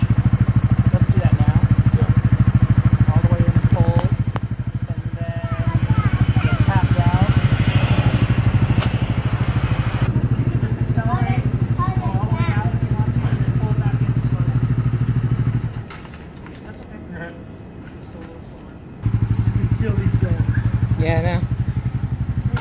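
A motorbike engine idles in neutral with a loud, steady, close thrum that drops away briefly near the end before returning, while people talk over it throughout.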